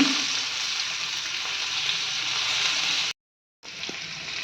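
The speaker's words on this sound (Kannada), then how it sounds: "ಫ್ರೈ ಆಗ್ತಿದೆ ನಮ್ಮ ಓಕ್ರಾ ಫ್ರೈ." Stuffed okra fries in hot oil in a pan, giving a steady, close, crackling sizzle that runs continuously, cuts out briefly, then resumes.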